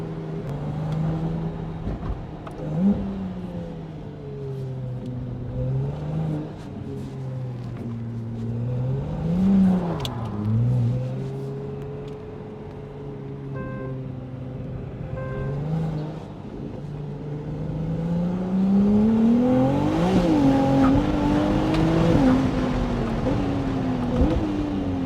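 A Ferrari engine idles while warming up after the car had been driving on electric power, rising in several loud revs with clear harmonic engine tones, the final rev swelling longest and loudest near the end, with no speech.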